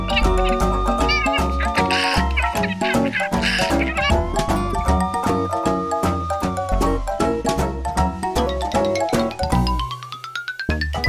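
A kitten meows repeatedly inside a French children's song about a big red fire truck, its cries woven through busy, loud music with sung vocals.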